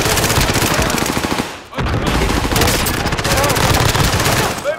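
Automatic gunfire rattles in a first-person shooter game, loud, rapid, continuous bursts with a brief pause midway, close and dense, with some talk over it.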